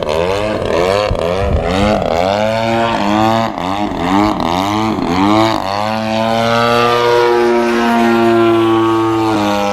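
Radio-controlled 3D aerobatic airplane flying a rolling harrier, its propeller motor whining loud and close with pulsing rises and falls through repeated rolls, then steadying into a sustained drone.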